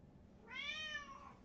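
A person imitates a cat with one clear, drawn-out meow in a high voice, heard close and alone over a quiet background.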